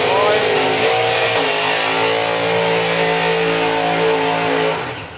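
A drag racing van accelerates down the strip at a drag racing event, its engine roaring loud and sustained, then fading slightly at the end, with a commentator's voice partly under it.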